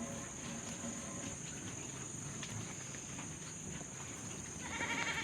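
A goat bleats faintly amid a constant high insect drone and outdoor farmyard noise, near pigs at feeding time.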